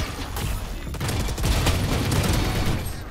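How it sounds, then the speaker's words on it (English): Rapid gunfire in the video game Valorant, a dense continuous burst of shots that stays loud throughout, with faint voice chat in the background. "Shots."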